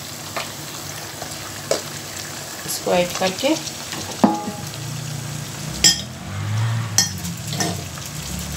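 Mutton pieces are added to onions frying in a pan for a bhuna mutton roast. A steady sizzle swells as the meat goes in, broken by stirring scrapes and clinks, while someone speaks briefly in Hindi.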